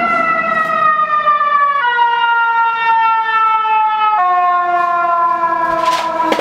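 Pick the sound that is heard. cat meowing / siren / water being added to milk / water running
siren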